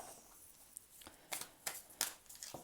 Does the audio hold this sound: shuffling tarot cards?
yes